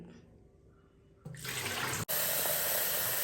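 Quiet at first, then water suddenly gushes from a tap, splashing loudly and continuously, with a brief cutoff before the flow resumes.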